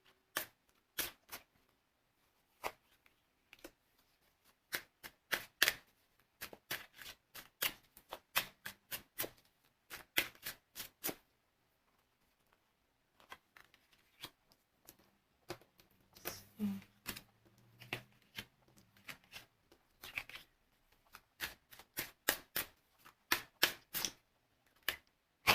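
Tarot cards shuffled by hand in a series of crisp, close riffles and snaps, coming in irregular bursts with brief pauses between them, and a low murmur partway through.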